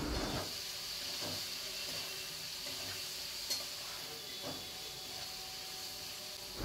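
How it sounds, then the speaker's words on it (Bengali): Sliced onions fry in hot oil in a pan with bay leaves and spices, making a steady hissing sizzle, with a few soft scrapes and clinks as they are stirred. "4 থেকে 5টা মিডিয়াম সাইজের পেঁয়াজ ঝিরিঝিরি করে কেটে রেখেছিলাম সেটা ওর মধ্যে দিয়ে দিলাম, দিয়ে একটু ভালো করে ভাজা ভাজা করতে লাগলাম।"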